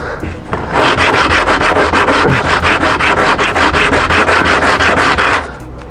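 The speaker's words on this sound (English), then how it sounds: "Using this high quality 80 grit sandpaper really does help." Hand sanding of flaky, peeling paint with coarse 80 grit sandpaper, given as a loud, close, steady run of quick back-and-forth rasping strokes for about five seconds with no talk.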